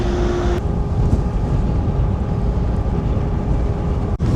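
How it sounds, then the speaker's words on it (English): Wind buffets a ferry deck on a crossing in northern Norway near the Arctic Circle toward Lofoten, a steady loud rumbling roar with the ship's low engine drone beneath and a brief gust thump near the end. "Oh, it's windy."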